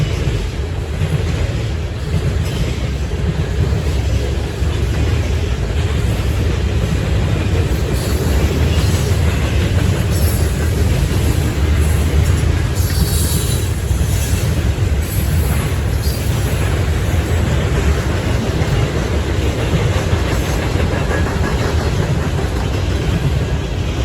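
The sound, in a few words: Norfolk Southern freight train passing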